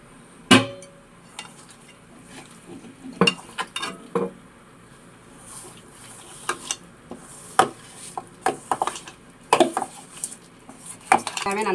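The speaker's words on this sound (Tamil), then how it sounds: "எண்ணெய் ஊற்றி ஏன் பிசைகிறோம்னா இதில் வந்து நல்லா பிடிச்சிக்கிறோம்," Sardine fish being kneaded with oil in a pan by hand for a fish curry, heard as scattered clinks, scrapes and knocks of metal cookware and utensils, close and fairly quiet.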